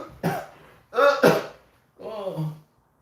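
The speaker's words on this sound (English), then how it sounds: "When you want to cough, but coughing makes it feel like your head is gonna explode." Three harsh, throaty coughs close to the mic, the middle one a rough double burst, separated by short pauses.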